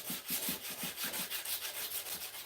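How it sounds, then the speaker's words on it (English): A knife blade is hand sanded in quick, rhythmic back-and-forth strokes, a soft, raspy scrubbing that repeats close by and without pause. "let's keep hand sanding"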